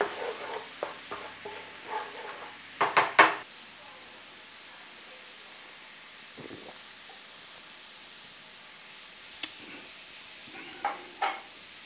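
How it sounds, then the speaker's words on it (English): Garlic paste sizzling softly in oil in a pan, with a cluster of stirring scrapes and clatter early on, then quiet low frying and a few more scattered scrapes near the end. "So give it a good stir around."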